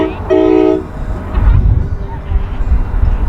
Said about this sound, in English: I hear the train a-coming. It's coming down the track.